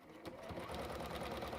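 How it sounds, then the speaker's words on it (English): A sewing machine stitches steadily along marked lines, its needle running in a fast, even rhythm close by and loud, without pause for the whole stretch. "And then just sew on those lines that you can see."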